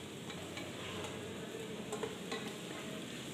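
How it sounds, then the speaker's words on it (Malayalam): Chopped tomato sizzling in a pan with softened onion and ginger for a Kerala chicken liver roast, a steady close frying hiss with a few light stirring scrapes and no voices. "ഉള്ളിയും ഇഞ്ചിയും എല്ലാം ഒന്ന് വാടി വരുമ്പോഴേക്കും അതിലേക്ക് നമുക്ക് നേരത്തെ അരിഞ്ഞു വെച്ചിരുന്ന തക്കാളി ചേർത്ത് കൊടുക്കാം"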